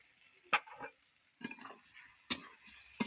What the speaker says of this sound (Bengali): দেখো হালকা করে ভেজে নিচ্ছি।